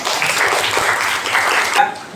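Classroom of students clapping together in a burst of applause, fairly loud and dense, cutting off near the end with a brief tone.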